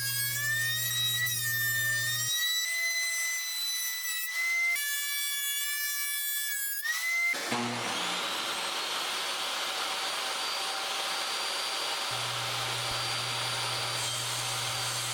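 A thickness planer runs wood boards for an end grain butcher block cutting board with a loud, continuous motorized whine and roar. The pitch shifts as boards feed through and the machine loads and unloads, with no talking.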